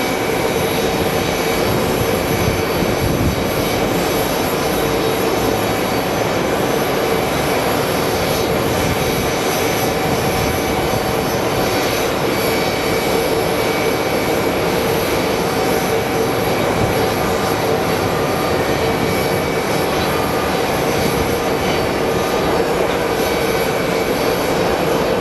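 Large jet airplane at Sky Harbor International Airport in Phoenix, a loud continuous roar of jet engines with hissing broadband rush and a faint whine, steady throughout as it passes nearby.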